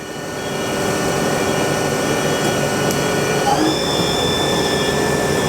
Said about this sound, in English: Stepped up. That's 2000 RPM.